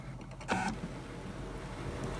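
A We R Memory Keepers crafting machine drives a quill pen across a project while coloring in a sail, giving one brief, close mechanical whir over a quiet, steady background.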